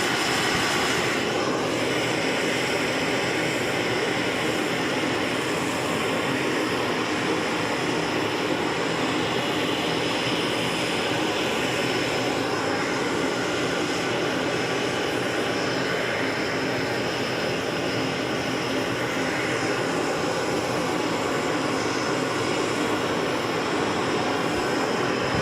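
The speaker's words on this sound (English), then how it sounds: "It's a bit hard to hear over that torch." Giant glassblowing torch in a hot shop, a loud, steady, broadband roar that runs unbroken and close throughout.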